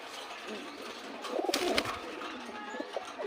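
Blue satin pigeons give a few soft, close coos in the middle over a steady background hiss.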